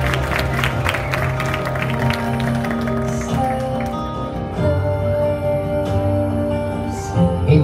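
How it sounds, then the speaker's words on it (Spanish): Guests at a quinceañera party in a hall clap and cheer under loud, sustained party music, the applause strongest at first and fading into the music. "Fuerte el aplauso."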